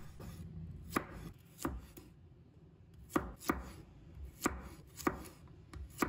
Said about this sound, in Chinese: 再准备1把大蒜，把它切成小块。